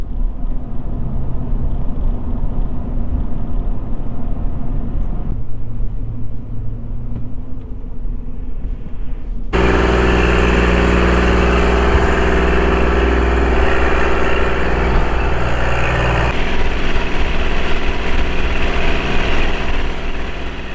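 A tractor engine idles steadily as it is unloaded from a trailer, a continuous low rumble that grows louder and fuller partway through and then holds alone without talk.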